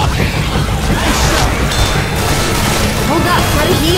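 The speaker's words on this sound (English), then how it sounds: "Stop shooting me!" Constant Left 4 Dead 2 gunfire and crashing booms blend into a dense, loud wash of combat noise with no clear gaps between the shots.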